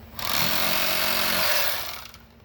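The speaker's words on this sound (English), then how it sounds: "now I'm going to take my Sawzall blade. I've already cleaned that. I'm going to make my cut right here." A Sawzall blade cuts through a plumeria branch being prepared for grafting, making a harsh, steady rasping buzz. It lasts nearly two seconds up close, then trails off.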